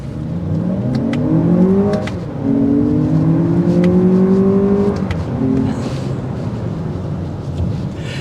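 2024 Lexus RX 500h F-Sport hybrid crossover accelerating hard from inside the cabin, its rising engine whine climbing through two gear shifts, loud and close.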